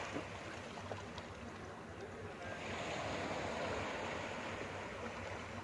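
Sea waves wash ashore at Tân Thành beach in Gò Công, a continuous broad roar of surf mixed with wind noise that swells slightly louder midway.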